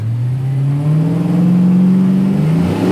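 A restomod 1969 Chevy Camaro engine revs hard and holds a loud, steady roar with a rising whine as the tires are roasted, close and continuous throughout.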